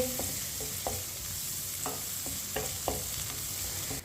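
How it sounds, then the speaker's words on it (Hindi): Pistachios are stirred and roasted with a spoon in a pan over low heat. A soft, steady sizzle runs under a few light spoon scrapes and taps, close and fairly quiet, with no talking. "दोनों चीजों को हल्की सी आंच पर 2 मिनट के लिए चम्मच चलाते हुए भूनेंगे"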